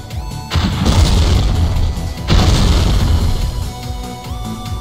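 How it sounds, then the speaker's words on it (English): Rocket-jump explosions in an indie Unity first-person shooter game, two loud booming blasts with long rumbling tails, the second following about two seconds after the first. "The explosion gives you knockback, giving you extra height and distance."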